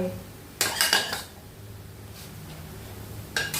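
A spoon scraping and clattering against a pan while chili is stirred in during Isan cooking, in a short burst of metallic scrapes, then a pause and another scrape, with a voice speaking softly.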